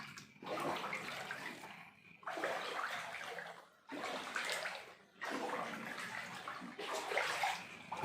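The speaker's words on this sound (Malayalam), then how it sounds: "നമ്മുടെ വീട്ടിൽ വെള്ളം കയറി ഓണത്തിൻ്റെ വെള്ളം ഓണം വെള്ളത്തിലായി" Floodwater that has flowed into a house during monsoon rain in Ghaziabad sloshes and rushes in loud, splashing bursts. Several surges are broken by brief lulls, and the source sounds close by.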